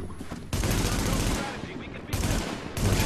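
Sustained automatic gunfire from a firefight in The Division, a dense, loud rattle of rapid shots in long bursts with brief pauses between them.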